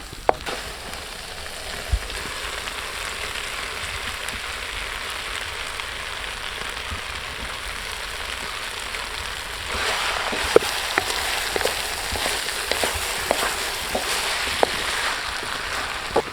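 Beef heart fries Kerala style in a pan, a steady close sizzle and crackle holding throughout and growing louder and busier partway through, with occasional sharper pops and no talking.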